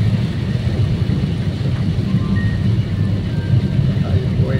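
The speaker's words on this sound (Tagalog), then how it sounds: "Ang ulan po ay hindi naman malalaki ang patak, pero madami, masinsin." Dense, fine heavy rain drumming on a moving vehicle during a drive in darkness, a steady close wash with low road rumble beneath and a voice speaking over it.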